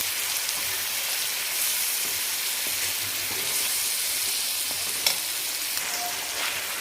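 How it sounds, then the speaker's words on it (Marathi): Onion-coconut masala paste frying in oil for a spicy village-style mutton curry makes a steady, moderately quiet crackling sizzle like light rain, with a few faint clicks of a stirring spoon. No voices. "हे जे कांदा खोबऱ्याचं वाटण होतं ना, हे टाकून घेऊ. आणि छान ह्याला पण आपल्याला तेलामध्ये परतून घ्यायचं"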